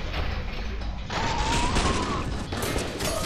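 Rapid bursts of nail gun fire in the shooter game F.E.A.R., loud and dense combat gunfire with mechanical clatter, continuous across the clip.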